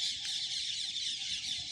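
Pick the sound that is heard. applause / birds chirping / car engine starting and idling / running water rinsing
birds chirping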